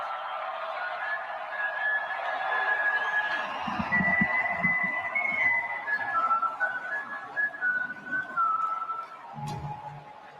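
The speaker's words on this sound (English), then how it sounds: "the whistle that was in The Wire, which is a Baltimore-themed show that used to be on HBO" A whistled melody, the theme from the Baltimore-set HBO series The Wire used as a baseball closer's intro, plays as a steady wavering tune over a soft backing, with low thumps near the middle and end and no talking.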